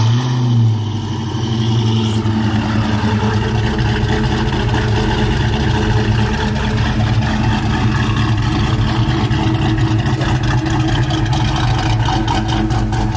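A Fox-body car engine rumbles loudly and close, rising into throaty revs, then settling into a steady, heavy idle that continues throughout.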